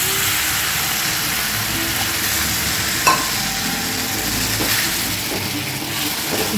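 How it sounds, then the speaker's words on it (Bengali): Sizzling and bubbling from cabbage frying in a pan as water goes in, a continuous hiss with a brief utensil clink near the middle, close and without talk. "এখন এবার আমি এতে জল দেব,"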